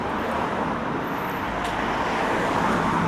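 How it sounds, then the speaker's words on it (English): Steady road traffic near a busy street in Attercliffe, Sheffield, a continuous broadband roar of passing cars and motor vehicles with no gaps, loud and close throughout. "there's an awful lot of traffic as well"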